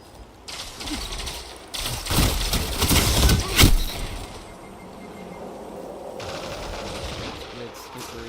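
Gunfire in a PvP video game, with rapid automatic bursts peaking loud in the middle of the clip, then settling into a steady background rumble.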